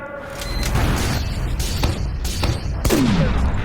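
Sniper fire in a Roblox town sandbox game: a burst of sharp, close shots and a whooshing zip ring out over a steady bed of game noise, with a heavier crack near the end.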